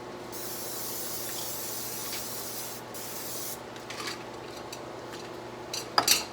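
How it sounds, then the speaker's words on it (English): Several bursts of cooking spray hiss close by into a pan, followed by a few clinks of metal cookware at the end. "get some spray, make sure it's not sticking to the pan"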